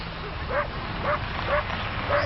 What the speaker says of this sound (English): Whole lot of yapping going on over there. Oh, that dog won't stop.